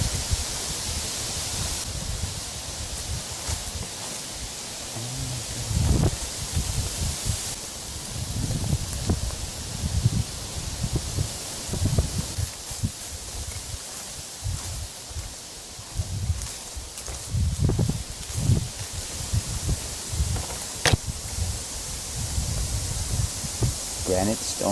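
Steady wind rushes through open woods, a continuous broadband roar with rustling leaves and gusty swells close to the microphone, with no other sound standing out.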